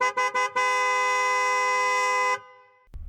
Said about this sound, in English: honked the horn